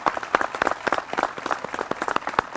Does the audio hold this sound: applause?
yes